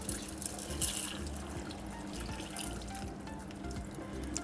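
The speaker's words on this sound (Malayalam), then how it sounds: "ശകലം വെള്ളം ഒഴിച്ചു കൊടുക്കുക, തന്നെ വെള്ളം ഒഴിക്കുക." Water pours into a cooking pot of turmeric-seasoned food, a faint, steady splashing trickle heard close with no voices.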